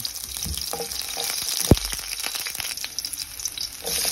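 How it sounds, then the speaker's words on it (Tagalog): Garlic fries in hot cooking oil for chicken tinola, a close, continuous crackling sizzle with one sharp click midway and no talking. "So maglagay ako ng cooking oil. Unahin natin yung bawang."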